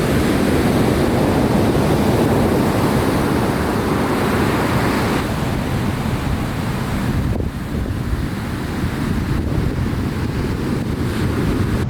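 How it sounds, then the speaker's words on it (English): Heavy ocean surf roars steadily at Hidden Beach in Redwood National Park near Orick, a continuous loud wash of breaking waves mixed with wind buffeting the microphone, with no voices. "The ocean is roaring. It has not calmed down."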